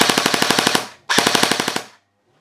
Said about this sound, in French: On a la rafale de 2 et rafale automatique.